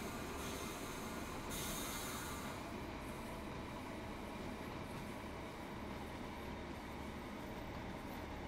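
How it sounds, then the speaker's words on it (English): A train's brakes squeal in Train Sim World 3 on the Tees Valley Line, a faint high screech over continuous rolling wheel and carriage rumble, strongest in the first couple of seconds. "Oh, that's brakes."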